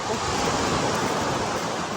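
Ocean waves at a beach during a morning walk, a loud continuous roar of surf and wind noise that fills the whole moment without pause.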